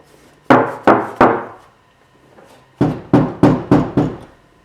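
Knuckles rap on the door panel of an MK3 Supra after sound deadening is applied: three sharp knocks, a pause, then five more. Each knock lands close and loud with a short, slightly ringing decay.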